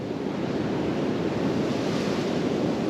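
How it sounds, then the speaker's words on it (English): Sea swells surging against coastal rocks below cliffs, a steady loud wash of surf with wind noise across the microphone and no voices. "because of the swells coming up against the rocks"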